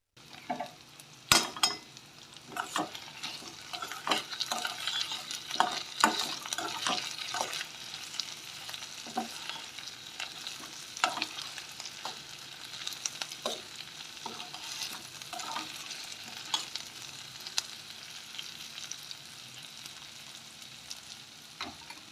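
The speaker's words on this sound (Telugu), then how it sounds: "ఉల్లిపాయల ముక్కలు కలుపుతూ దోరగా వేగిస్తూనే ఉండాలి" Onion pieces fry in a pan and are stirred steadily, with a continuous loud sizzle broken by frequent scraping and clinking strokes of a utensil against the pan. No voices are heard.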